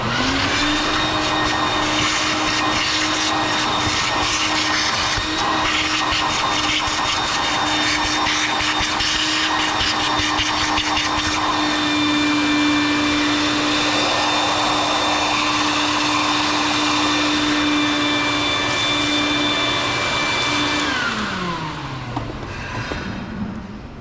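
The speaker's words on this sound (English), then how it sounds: "So I'm gonna vacuum this real quick." A vacuum cleaner runs continuously and loudly up close while cleaning the hopper of a Mahlkonig GBW coffee grinder, a steady whining drone that winds down at the end.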